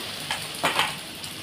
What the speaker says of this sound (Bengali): তো দেখো তেলটা আমার গরম হয়ে গেছে। ডিমটা যেমন করে আমরা অমলেট দিই সেরকম করে দিয়ে দিলাম।